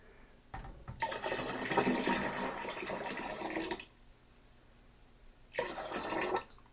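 Water poured into a one-gallon fermenter for almond wine, a close, steady splashing pour lasting about three seconds, then a pause and a second shorter pour.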